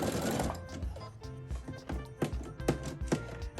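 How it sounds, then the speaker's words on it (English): A sewing machine stitches a crocheted applique onto fabric in short, stop-start runs with intermittent clicks and taps, fairly quiet and close. "start sewing again"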